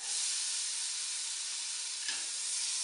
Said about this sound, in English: One of my most favorite sounds is of onions sizzling